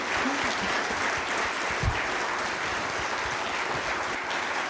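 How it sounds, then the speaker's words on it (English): An audience at a lecture applauds a speaker, a steady wash of moderate clapping heard from a distance with a faint voice briefly underneath. "Very well-deserved applause for Dr. Ali."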